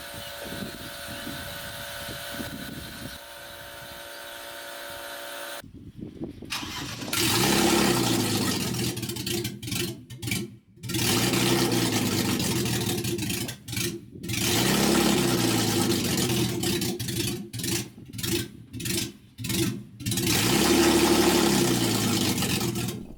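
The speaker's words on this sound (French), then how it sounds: "un M50 sans échappement, ça fait un bruit ignoble" A 1992 BMW 320i E36 with an M50 engine and no exhaust fitted, cranking over and firing into a loud, raw idle, then a series of sharp blips and revs that rise and fall repeatedly, close by with no talk.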